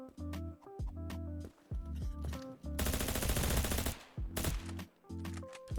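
Gunfire rings out in the video game Krunker: rapid bursts of synthetic shots. A long, dense automatic volley in the middle is framed by shorter punchy bursts, loud and close.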